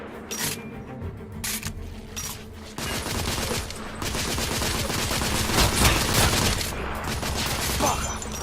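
Suppressing gunfire in the Victorian-era shooter The Order 1886, scattered sharp shots giving way to a sustained loud barrage of rapid fire.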